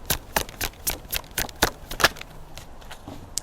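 Tarot cards are shuffled in quick crisp riffles and snaps, a string of sharp papery bursts at an uneven rhythm, close and fairly quiet with no voices.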